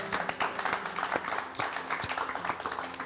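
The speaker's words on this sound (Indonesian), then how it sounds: "Luar biasa. Tepuk tangan." An audience claps in a short, moderately loud round of applause with uneven, scattered claps, while low background sounds continue underneath.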